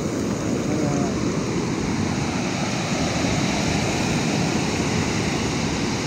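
Large ocean waves break on the shore at San Juan, La Union, a loud, continuous, close wash of surf with no pauses between waves and no voices.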